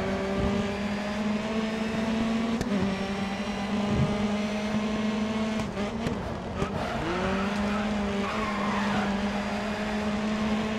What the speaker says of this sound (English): That tire squeal was really loud.